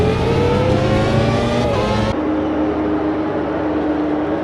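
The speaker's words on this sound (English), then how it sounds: "Very hard braking here into turn 5." In a racing video game set at Road America, a race car's engine whines loudly with harmonics falling as it brakes hard into a turn, then the tone abruptly drops to a lower, duller rumble.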